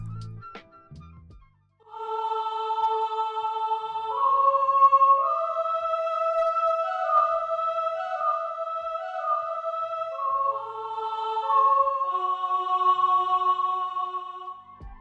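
Artinoise Re.Corder digital recorder set to a choir voice, a sustained sung-vowel timbre playing a slow melody of held notes, clear and close, alone after a brief click at the start.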